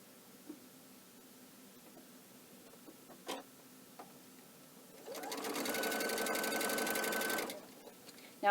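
A sewing machine runs steadily for a couple of seconds while stitching quilt binding on a quilt edge, starting abruptly after a quiet stretch with faint handling clicks, then stopping, sounding close and fairly loud.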